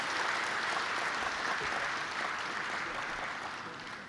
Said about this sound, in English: give another round of applause to the outgoing Chairperson